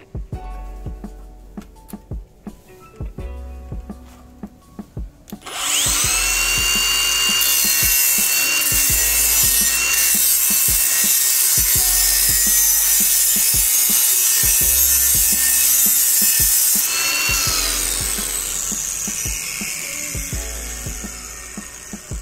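RYOBI P423 cordless brushless angle grinder cutting, starting with a few handling knocks before a loud, sustained high-pitched whine and grinding rasp that holds steady for about fifteen seconds, then gradually tapers off.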